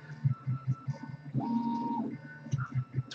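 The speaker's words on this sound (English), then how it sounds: "this printer's really loud" An MK2.5 3D printer runs loudly nearby, its stepper motors buzzing in rhythmic pulses with a sustained whine in the middle and no voices.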